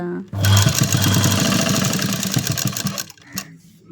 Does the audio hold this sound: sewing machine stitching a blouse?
yes